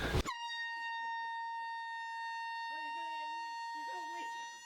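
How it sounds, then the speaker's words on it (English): Air horn in a prank, a long loud continuous blast after a brief initial burst, with people's voices talking and laughing over it. "That's what happens when you sit on the Airhorn too long"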